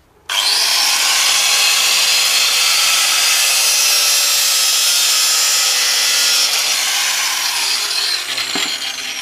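A power tool cuts a ring for a plant fence, a loud continuous high whine and grinding rasp that starts abruptly, runs steadily at close range, and tapers slightly near the end without speech.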